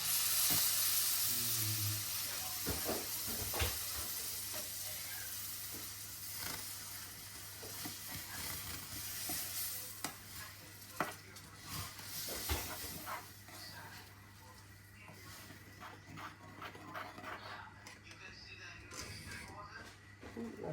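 Dal poured into a hot Gujarati vaghar sizzles and hisses steadily throughout, with scattered clinks and stirring knocks, and a voice speaks over the frying.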